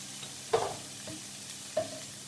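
Chopped yellow pepper in a frying pan with Frylight spray gets two brief stirring scrapes with a soft sizzle, close and quiet against a low steady hiss.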